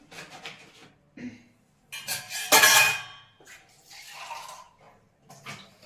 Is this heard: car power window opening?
no